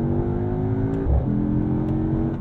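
A sports car engine, either an AMG GT63 S Coupe or a Cadillac CT5 Blackwing, revs loudly and close up, its tone climbing before a brief dip at a gear change and then pulling hard again.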